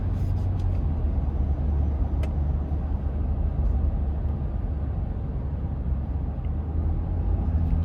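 A 2026 Ford F-250 King Ranch heavy-duty pickup cruising in normal drive mode, with a steady low engine and road rumble droning loudly and evenly throughout, no voices.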